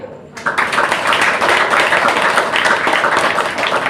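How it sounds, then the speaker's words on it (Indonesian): Dense applause from an audience at an Indonesian official gathering on COVID-19 operations, rising abruptly after a brief quiet start and holding steady and loud throughout. "tepuk tangan"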